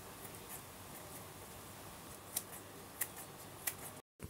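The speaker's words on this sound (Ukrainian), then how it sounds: "Я беру ножиці і нарізаю." A few faint, crisp snips of scissors cutting raspberry leaves cut through a soft background hiss, spaced irregularly and quiet, with no talking.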